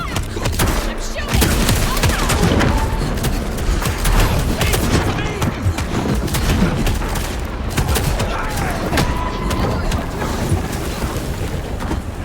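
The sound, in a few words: gunfire in the video game Vampire: The Masquerade Bloodlines 2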